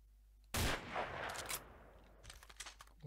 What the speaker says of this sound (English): Oh, Tommy gun.